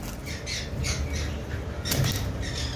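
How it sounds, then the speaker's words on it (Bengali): A pair of pied cockatiels at a bird seller's, giving loud, close, repeated harsh squawks over steady background noise. "এইখানে আরেকটা পেয়ার ভিপাইড কোকাটেল রয়েছে"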